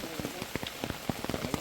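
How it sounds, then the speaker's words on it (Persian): Rain patters densely on surfaces in a forest, with distinct close drops landing in an uneven rhythm over a steady wash of rainfall. "عجب هوای بارونی"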